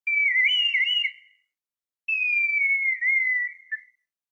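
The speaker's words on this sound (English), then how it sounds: "every now and again, we're going to get a kite call sound" A red kite call plays as a game level sound effect, two long, clear descending whistles with a short gap between them, loud and isolated against silence.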